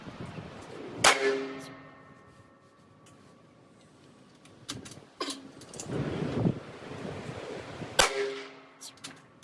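Savage rifle fired with test loads outdoors, with three sharp gunshots spaced several seconds apart, each cracking loudly over steady wind noise on the microphone.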